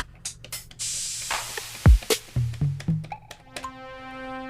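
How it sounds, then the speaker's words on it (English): Drum sounds triggered from the keys of a Sonicware Liven Bass & Beats synthesizer in pad mode: a string of punchy kick and percussion hits with short clicks, close and loud, followed by a sustained tone. "use the keys there to play my drum sounds."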